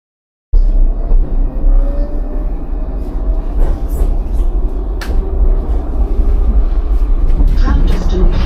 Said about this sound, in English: Tram destination Bride's Glen.